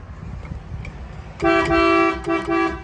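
The horn of a 1956 Ford Fairlane Sunliner convertible honks in a steady blast lasting about a second, then two shorter toots follow, loud and close over a low idling rumble.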